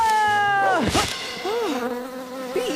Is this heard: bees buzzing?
yes